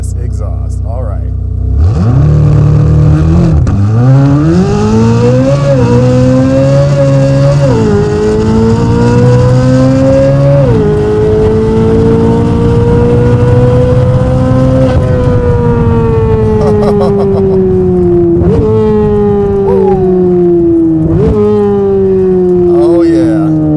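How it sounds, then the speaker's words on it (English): A Corvette C8 Z06 with an AWE exhaust makes a launch-control start and accelerates hard, loud and close. The engine climbs through rising shifts with several upshifts and later sharp downshift blips, with some voices over it. "we're gonna do a little launch control and go so you can hear the sound of this amazing exhaust"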